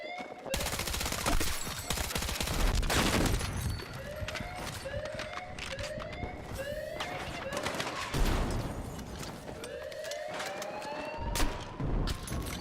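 Rapid gunfire in Battlefield 6 during a match, with bursts of automatic shots and scattered single reports over a dense background of in-game effects and rising whistling tones.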